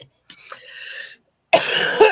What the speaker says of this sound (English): I'm still getting over this stupid cough.